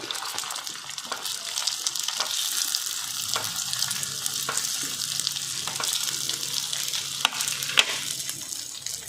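Sabudana balls fry in a hot oiled appe pan, a dense continuous sizzle with occasional light taps and scrapes as they are placed and turned, close and steady, without speech.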